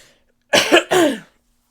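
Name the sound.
coughing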